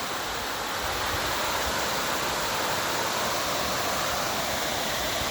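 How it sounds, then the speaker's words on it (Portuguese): A small waterfall roars as steady, dense, loud rushing water, continuous and unbroken throughout with no voices. "Cachoeirinha tá aí."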